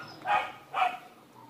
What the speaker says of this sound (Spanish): Hay unos perros queriendo dar duro ahorita ahí.